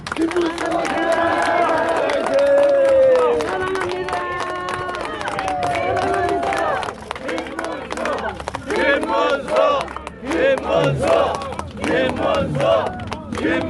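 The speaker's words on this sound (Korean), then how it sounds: "여러분 힘차게 격려 박수 부탁드립니다" A crowd in front of the Blue House in Seoul applauds and shouts after a former governor's head-shaving protest, loud cheering and clapping mixed with excited voices and babble, growing choppier toward the end.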